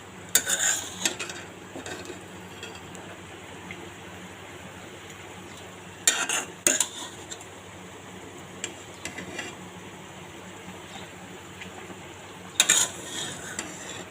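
Fried fish pieces tipped into a cooking pan: a soft, steady sizzle with a few sharp clattering bursts of spoon against pan, spaced several seconds apart, close by and without speech.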